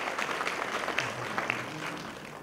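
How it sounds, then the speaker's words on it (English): An audience at a formal memorial lecture gives a round of applause, a moderate, even patter of many hands with a few sharper claps standing out. "A round of applause, please."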